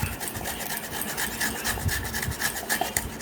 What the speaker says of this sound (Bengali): পেয়ারাটাকে ঘষে নেবেন